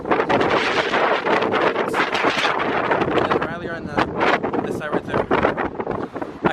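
Strong storm wind blows outdoors among big trees, a loud, steady roar battering the microphone, with rustling and gusty swells throughout and no clear pauses.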